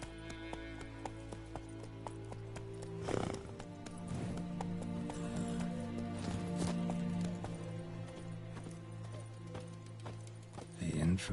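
Roach the horse gallops in The Witcher game, rapid hoof clip-clops pounding steadily over a droning music bed, with a voice calling out and a brief whinny-like swell.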